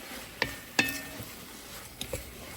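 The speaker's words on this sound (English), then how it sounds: "just mix it really quick so it gets all the yumminess from the oil and the garlic and the butter" Cauliflower with black pepper, garlic, butter and oil is stirred quickly in a pan, a faint background sizzle broken by a few sharp metallic scrapes and taps of the utensil against the pan.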